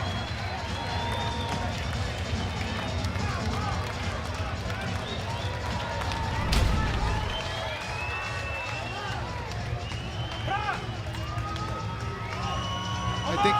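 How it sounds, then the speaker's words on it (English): A Karate Combat event crowd cheers and applauds, a roar of cheering and clapping that swells near the middle, under a commentator's talk. "Applause from the crowd as they head down into the pit to render the official decision"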